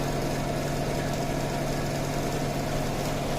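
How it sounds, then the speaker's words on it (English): A DC shunt motor spins with no mechanical load applied, giving a steady, even hum with a constant low drone and faint whine throughout, close and unbroken, with no talking. "no mechanical loading is applied on the motor, and this no load current is very small"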